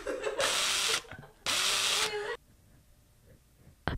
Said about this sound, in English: ASMR drill.